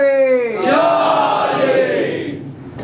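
A crowd at a religious majlis gathering shouts a slogan together, a loud sustained chorus of voices rising and holding, then fading out.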